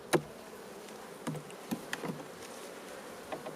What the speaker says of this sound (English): Got a bunch of bees in here for coming out of winter.